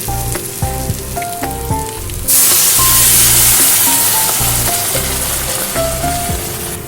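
Frying potatoes and sliced onion in a pan, stirred with a clacking spatula, then water poured in bursts into a sudden loud hissing roar that settles into a steady bubbling sizzle, close up and without speech.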